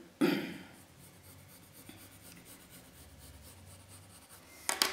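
A marker drawing across a felt pattern piece for a felt handbag, giving a soft continuous scratchy rub with a louder scrape at the start and a brief rustle at the end.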